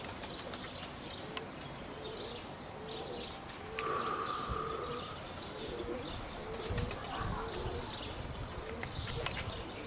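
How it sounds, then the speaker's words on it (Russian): A flock of pigeons coos in soft, repeated throaty calls, some near and some farther off, with brief chirps and a short steady tone partway through, over continuous outdoor background noise. "когорта голубей"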